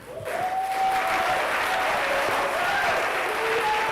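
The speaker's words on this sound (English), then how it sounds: "Celebrate Jesus with a clap." A church congregation at an Igbo Anglican Sunday service breaks into loud, sustained applause that swells and holds, with a faint sung or called voice drifting over the clapping.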